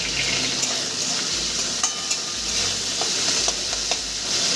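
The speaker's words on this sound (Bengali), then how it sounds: "আলুটা সুন্দর করে নেড়ে ছেড়ে ভেজে নেব" Salted potato pieces sizzle steadily in a hot pan while being stirred for a Bengali shukto, giving a constant bright frying hiss with faint scraping, with no talking.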